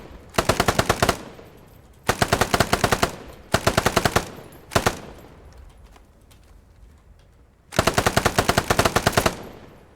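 Bursts from a DP27 light machine gun in the Squad 44 video game, four long rapid-fire strings and one short burst separated by quiet gaps, loud and close with no talk.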